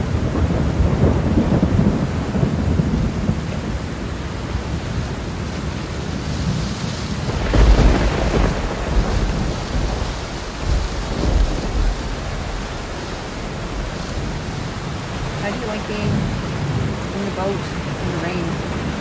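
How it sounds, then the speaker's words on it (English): Thunderstorm with rain heard from a boat on the water, a steady hiss of rainfall with a loud, deep rolling thunder clap midway that slowly rumbles away. "when it gets really lightning and thunder, it gets you a little nervous"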